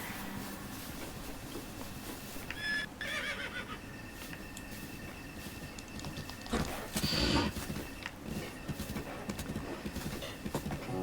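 A horse in Zelda: Breath of the Wild gives off hoof clip-clops mixed with whinnying, moderately loud over a steady background, with a brighter burst partway through.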